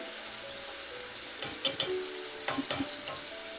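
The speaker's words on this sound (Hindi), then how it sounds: "इसमें अनियन डाल देते हैं।" Onions go into softened tomatoes frying in a pan for brain masala, a soft hiss with a few stirring and scraping bursts near the end.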